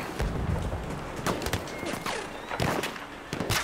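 A horse galloping in the video game Battlefield 1, with quick, irregular hoof thuds mixed with bursts of distant gunfire amid a busy battlefield din.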